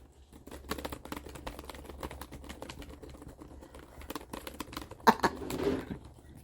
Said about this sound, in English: I can illustrate with this keyboard. This is what the reactive culture sounds like.